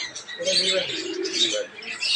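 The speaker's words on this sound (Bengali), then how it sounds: "কবুতর এখানে আছে, বিভিন্ন কবুতর।" Pigeons at a village market bird stall cooing in soft, low repeated calls, with brighter chirps and bustle around them, fairly near.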